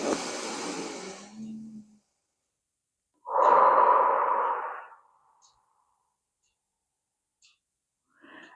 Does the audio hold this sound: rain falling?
no